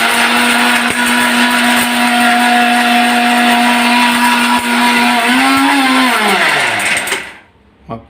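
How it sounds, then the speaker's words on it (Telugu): A mixer grinder loudly blends turmeric roots into powder, a steady high motor whine with grinding roar that then winds down and stops near the end, leaving brief quiet. "మళ్ళీ ఒకసారి మిక్సీ కొట్టుకోవాలి."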